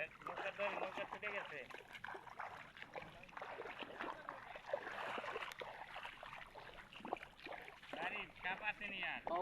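A boat moves through water nearby with soft splashing and trickling, while people keep talking over it.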